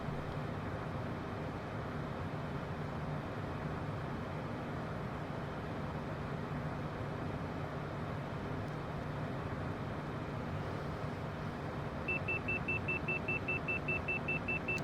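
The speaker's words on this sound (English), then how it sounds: "That's the overspeed warning, so we'll just bring the throttles back again." An overspeed warning sounds in a Cessna Citation CJ4 business jet cockpit on approach: a rapid, repeating beep starts near the end over a constant engine and airflow drone.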